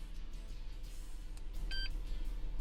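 A Honda key programmer gives a short, high electronic beep over a low steady hum, the tone sounding once briefly and cleanly.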